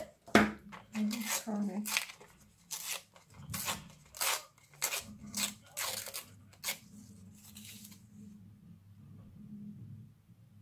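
Scissors snip paper shapes for a collage portrait, close and fairly loud, in a quick run of separate cuts with short pauses between them. A voice speaks briefly over the start.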